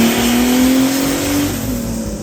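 A stock BMW E46 with a cheap turbo at about 6 psi of boost, running E85 with the DISA valve disconnected, revs hard and close, its loud engine note climbing steadily and then easing back near the end, with no voices.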